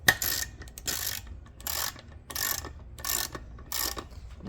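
A ratchet tightens beadlock wheel bolts on a UTV, six quick bursts of rapid clicking spaced under a second apart, close and crisp with short gaps between strokes.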